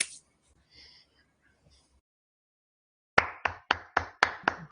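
After a near-silent stretch with a few faint stray noises, six sharp, close hand claps come at an even, moderate pace near the end.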